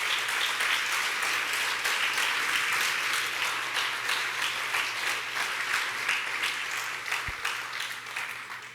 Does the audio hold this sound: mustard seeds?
no